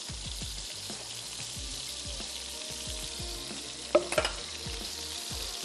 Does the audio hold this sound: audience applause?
no